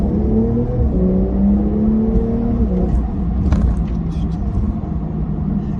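Porsche 992 Targa Heritage engine while driving, a deep steady rumble that rises and falls in pitch as the car accelerates, heard from inside the cabin with road noise and no voices.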